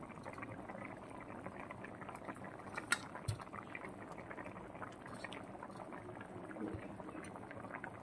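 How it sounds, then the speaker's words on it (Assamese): Fish curry simmering in a pot on the stove, a soft continuous bubbling and gurgling with a few small pops, faint and close, no voices. "উতল অহাৰ পিছত আৰু হৈ যাব।"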